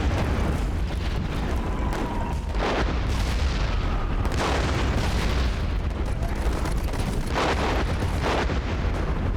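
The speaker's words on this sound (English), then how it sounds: "I feel like I should wait for the mortar strike." Mortar strike explosions in a war video game, heavy booming blasts and rumbling impacts repeating over continuous loud battle noise.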